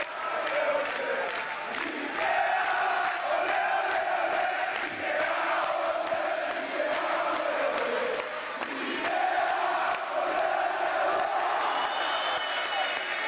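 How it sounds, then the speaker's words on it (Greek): Basketball arena crowd in a 1983-84 Greek league game, Ionikos Nikaias against PAOK, applauding and cheering steadily throughout, a broad sustained roar with scattered claps beneath a commentator's voice. "Και τα χειροκροτήματα πια είναι καθολικά για τις προσπάθειες του Παναγιώτη Γιαννάκη"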